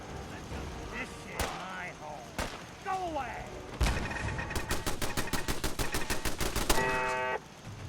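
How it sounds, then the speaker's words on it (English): Explosive bullets fired in Fallout 4 Far Harbor, a few scattered loud shots followed by a rapid burst of rhythmic gunfire with cracking impacts, all loud and close, with faint game voices between early shots. "Yeah, they're explosive bullets."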